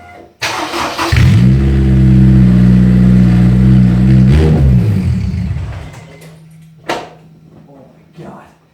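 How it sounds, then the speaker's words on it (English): A Honda S2000 starts up with no exhaust fitted, a loud raw engine roar held steady for several seconds before dropping away, followed by brief clunks and a voice nearby. "start this car up with no exhaust to see how super ricer it sounds"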